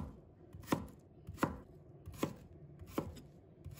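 A knife chops potato into small cubes on a cutting board, four sharp evenly spaced strokes, close and clear against a quiet background.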